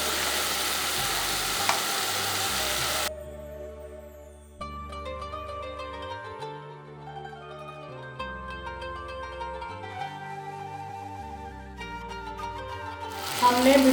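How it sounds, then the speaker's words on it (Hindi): Okra (bhindi) fries in roasted spice masala with very little oil. A loud, close sizzle runs for a few seconds, gives way to music, and briefly returns at the end. "अब इस भुने हुए मसाले में हम ऐड करेंगे भिंडी और फिर इसको अच्छी तरह से भूनेंगे।"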